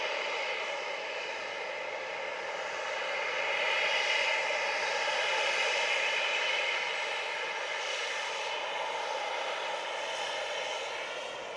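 Flair Airlines jet airliner taking off at Montego Bay, a broad sustained engine roar that swells slightly and holds steady throughout, heard from a distance with no speech.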